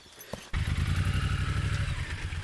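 A motorcycle engine starts up after a soft knock and settles into a steady, throbbing low idle, pulsing evenly at moderate volume.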